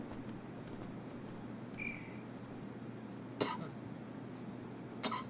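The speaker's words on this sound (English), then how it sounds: "I've got such a cough lately." Two short, fairly faint coughs or throat clears from a person at a computer, a couple of seconds apart, over a steady low background hum.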